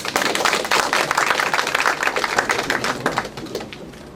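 Audience applause for Dr. Renato Solidong Jr. at a risk assessment talk, a crisp, steady wash of many hands clapping that fades slightly toward the end.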